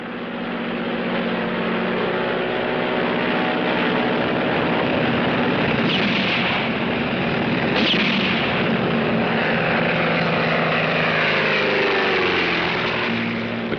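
A propeller airplane roars low over a runway, its engine drone loud and continuous throughout, with no voices over the noise.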